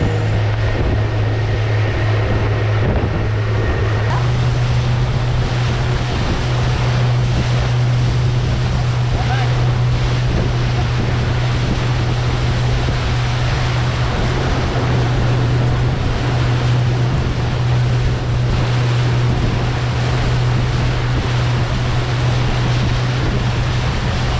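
A boat engine drones steadily under constant rushing water and heavy wind buffeting as the boat crosses sea waves off Terengganu, Malaysia, loud and continuous throughout.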